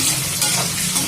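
Ghee with vegetables frying in a pan for a cucumber chutney, a steady close sizzle with light stirring scrapes, continuous and fairly loud without any voice.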